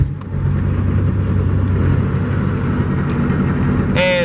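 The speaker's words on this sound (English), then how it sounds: "We're gonna shut the key off and start the truck." A truck engine with a check engine light on cranks and catches after the key is cycled, settling into a steady, loud low rumble close by, with a brief whine near the end.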